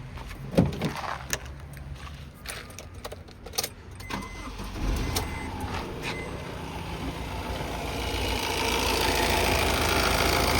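A 2015 Honda Amaze 1.5-litre diesel engine idles steadily, a low continuous rumble with a few clicks and knocks early on, growing slightly louder toward the end.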